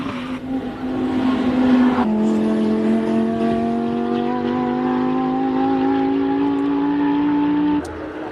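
A modified Audi R8 race car on a hill climb run at Simola accelerates hard: a loud rising engine howl, a sharp shift partway through, then a steady high climb before it cuts off.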